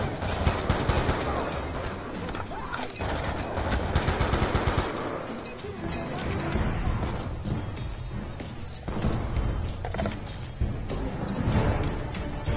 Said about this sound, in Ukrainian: А, це кулемет у нас?